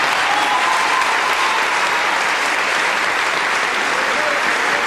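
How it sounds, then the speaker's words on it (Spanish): Sustained, loud applause from a theatre audience at an award ceremony in Peru, dense clapping filling the hall steadily from start to finish with faint crowd murmur beneath. "que no dejes de sonar las palmas o de escucharse esas palmas"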